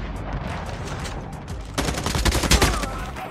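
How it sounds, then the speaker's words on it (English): Rapid gunfire in the mobile shooter Call of Duty Mobile rattles in dense bursts that build loud in the second half of the clip, coming over a busy game background. "Stop shooting at me."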